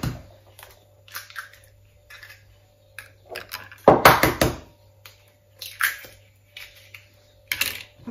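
Eggs being worked into a buckwheat and parmesan sablé dough with a spatula, giving soft, wet squishing and scraping strokes in short irregular bursts, with one louder messy smear in the middle and quiet gaps between.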